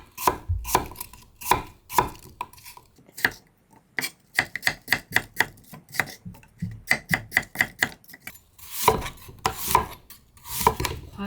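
A knife chops an unpeeled apple into bite-size pieces on a cutting board, a long run of close, crisp, rhythmic strokes with brief pauses between bursts.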